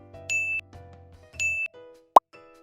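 An LG G7 ThinQ or Sony Xperia XZ3 smartphone on its wireless charging base gives off short, bright electronic chime tones, two sustained dings and a brief sharp click, close and clean with no voices.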